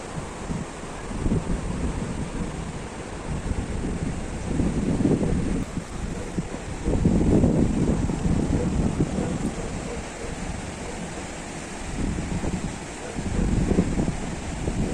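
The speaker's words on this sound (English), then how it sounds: "It's very cold, very windy." Cold, gusty wind buffeting outdoors in Arunachal Pradesh in early morning, rumbling low and rising in strong surges over a few seconds, with no voices.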